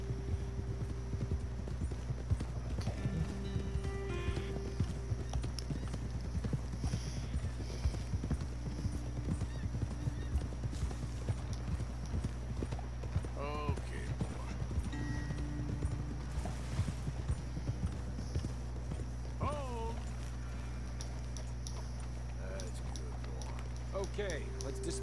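Several horses clip-clop along a trail in Red Dead Redemption 2, steady hoofbeats with occasional whinnies over a low ambient bed, while riders talk on and off.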